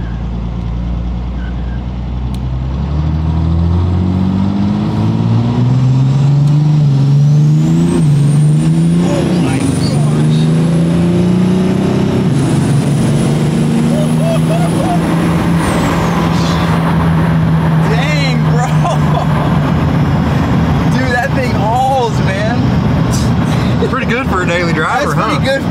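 Race truck with a turbo engine pulling hard, its loud revving rising and holding in long sweeps over a constant roar, with a whistling turbo whine on top and voices talking underneath.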